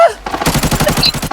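Rapid bursts of MK14 automatic gunfire in the game Arena Breakout rattle in a fast stream, loud and close, with brief video-game effect sounds over the shots.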